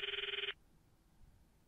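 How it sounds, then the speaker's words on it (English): A phone call rings in the Steins;Gate video game as a rapid electronic trill with a pulsing rhythm that cuts off after half a second, followed by quiet background. "I stop the video and call Mayuri's phone from my address book."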